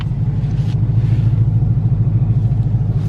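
Ford Mustang 5.0 engine heard from inside the car: a steady, loud low rumble and drone with a faint rising rev, continuous throughout.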